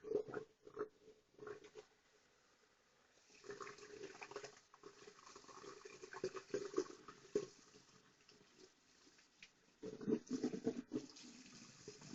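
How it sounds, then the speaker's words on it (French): Tap water rinsing hair dye out of hair over a sink, a faint splashing flow that comes and goes in irregular bursts, quiet and close. "il va falloir en fait rincer jusqu'à ce que l'eau que vous voyez devienne claire"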